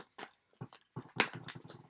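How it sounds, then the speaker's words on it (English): Dogs in a house with an open bedroom door, heard as faint short yips, whimpers and snuffling sounds in scattered bursts, fairly distant and quiet. "Sorry if y'all hear my dogs."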